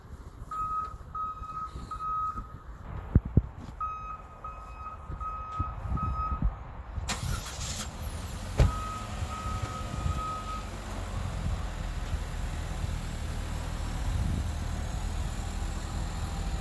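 A car drives onto a car hauler trailer in a rail yard, with a steady engine and road rumble throughout. Repeated high reversing-style beeps pulse in the first half, and a couple of sharp clanks cut in.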